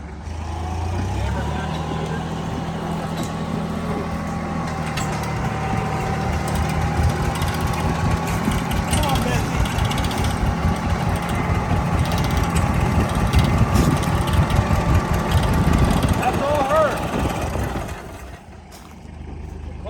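A 1939 John Deere Model B tractor engine, previously locked up, runs with a steady low rumbling drone and rapid putter that builds slightly before dropping off near the end, loud and close.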